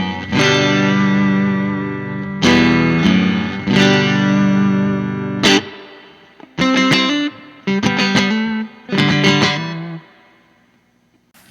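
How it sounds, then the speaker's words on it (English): Electric guitar played through a clean Fender Reverb reissue amp with lush spring reverb, sustained chords ringing out, then shorter stabbed chords with tails decaying into the room. "Fender Reverb reissue"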